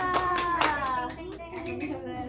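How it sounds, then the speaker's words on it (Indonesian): Children in a classroom clap for a classmate group, a short burst of scattered, uneven hand claps mixed with overlapping young voices chattering nearby. "Tepuk tangan ke kelompok 2."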